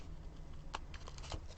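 Scissors make a couple of short, faint snips cutting through a piece of paper for scrapbooking, heard close and quiet with no talking.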